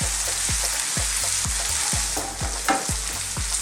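Potatoes stir-frying in a pan over lively heat for an Indian aloo rice dish, loud steady sizzle broken by regular, rhythmic spatula scrapes about every half second, close up with no talk.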